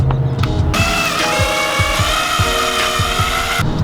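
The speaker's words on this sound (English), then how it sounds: "I'm basically hitting up each one of these ribs right here, drilling them in." A power drill drives self-tapping screws into the ribs of a front splitter on an Audi S3, whirring loudly and steadily at close range for a few seconds with faint ratcheting pulses.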